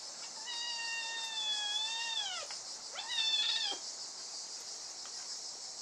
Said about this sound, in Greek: Θα νευριάσει τώρα ο γάτος και αλίμονό του.